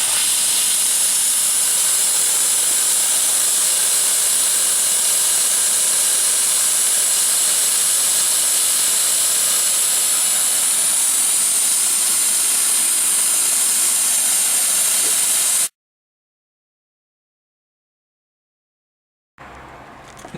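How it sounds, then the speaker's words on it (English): A loud, steady roar of steam venting from the boiler blowdown valve of a GWR 45xx class steam locomotive hisses continuously for about fifteen seconds, then cuts off abruptly into silence before a faint sound returns. "open the boiler blowdown valve, which is situated"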